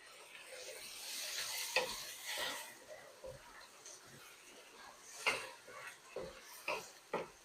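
Browned onions and tomatoes frying for a fish curry, with repeated spoon strokes scraping the pan over a light sizzle, the strokes spaced irregularly and fairly close.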